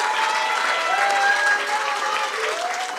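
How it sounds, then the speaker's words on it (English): Steady applause fills a hall at a university graduation ceremony, a sustained, even clapping from a large audience honoring postgraduates. "Let's give all our postgraduate and everyone a round of applause."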